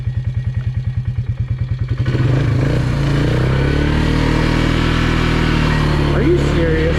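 Polaris UTV stuck in mud with its back tires caked up, the engine first chugging at a rapid idle, then revving up into a loud sustained roar, close by.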